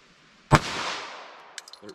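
One sharp, loud shot from a pistol firing Norma NXD .380 ACP ammunition over a chronograph rings out and decays over about a second, followed by a few faint clicks.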